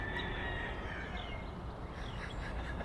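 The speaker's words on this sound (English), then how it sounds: "If you listen closely, you can hear chickens." Distant chickens cluck and a rooster crows faintly in a Texas neighbourhood, sitting under a loud, steady rumble of outdoor background noise.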